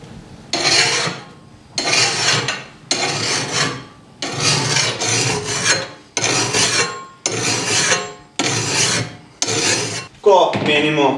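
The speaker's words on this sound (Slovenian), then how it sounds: "z drugo roko prijemamo na koncu pile, nastavimo na rezilo in brusimo" A hand file rasps against a lawn mower blade in eight or nine loud, even strokes, each a broad scraping burst separated by short pauses, with a lighter metallic clink at the end.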